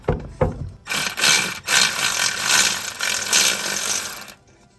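A socket wrench ratchets steadily against a nut beneath a Mk6 GTI while a downpipe comes off, its dense clicking running for several seconds close by after two brief knocks, then stopping abruptly.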